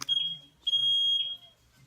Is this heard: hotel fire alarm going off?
yes